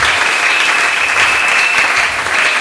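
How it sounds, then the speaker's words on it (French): A church congregation claps in steady, continuous applause at a worship service, the dense clapping filling the space at a loud, even level from start to finish. "Acclamez pour le Seigneur."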